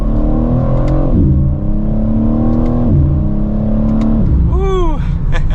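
A 2023 BMW M4 Competition Convertible xDrive accelerates hard, its engine note climbing through gears in rising sweeps with brief shift dips, loud and steady from the cabin, ending in a fast whining rise.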